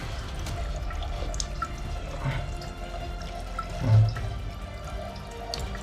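Water trickling and dripping steadily while a pet bird is bathed, with one brief louder splash partway through and no talking.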